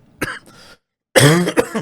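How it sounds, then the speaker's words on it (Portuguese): Two short coughs, the first light and clipped, then a louder, rougher cough with a throaty rasp, close to the listener. "desculpe a tosse"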